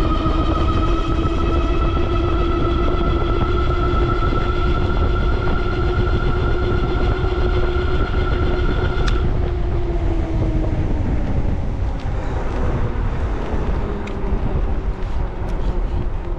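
Dual electric hub motors on an Ariel Rider Grizzly e-bike race with a loud, steady high whine, shifting in pitch partway through as a second tone joins and rough whirring fills in.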